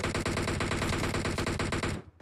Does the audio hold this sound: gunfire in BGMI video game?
yes